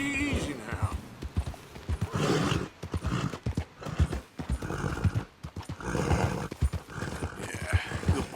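Horse hooves clip-clop at a steady riding pace in Red Dead Redemption 2, rhythmic and close, with a whinny and a voice talking over them.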